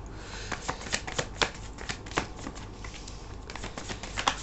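Tarot cards being shuffled and drawn, a rapid riffling patter of card edges close up with a few sharper snaps, alone without talk.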